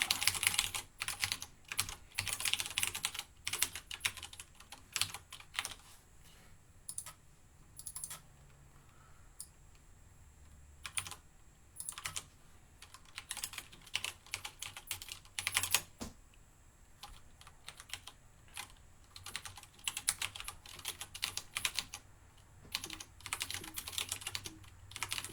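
Someone types on a computer keyboard while programming, producing fast irregular clatters of keystrokes in dense bursts with brief pauses, close and fairly clear, and no talk.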